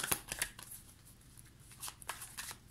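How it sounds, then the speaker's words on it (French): Tarot cards are handled and flipped face down on a table, giving soft quick shuffling and sliding rustles with a few light taps, close and quiet. "je vais recouvrir les cartes"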